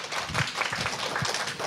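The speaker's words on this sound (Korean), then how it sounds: "Give him applause." Brief, lively clapping from a church congregation during a bilingual service, a dense patter of hands at moderate volume with no voices over it.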